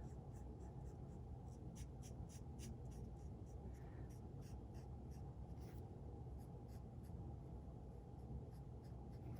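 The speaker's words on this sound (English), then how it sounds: "you could always come in just with a Stampin' Write marker and add these little touches" A Stampin' Write marker scratching small strokes of colour onto paper, a faint steady scribbling texture over a constant low background hum, close up, with no voices.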